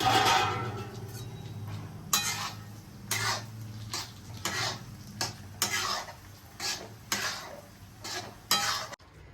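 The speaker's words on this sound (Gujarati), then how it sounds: "ડાર્ક બ્રાઉન ના થાય ત્યાં સુધી આપણે આને સાંતળવાનું ઘીની અંદર." Dry fruits stirred and sautéed in ghee in a pan for khajur pak, with repeated sharp metal spoon scrapes and clinks against the pot in an irregular rhythm over a steady low sizzle, close and fairly loud.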